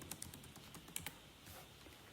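Fingers type a password on a computer keyboard to open MySQL, a short burst of crisp, close key clicks with a few louder taps, alone without talk.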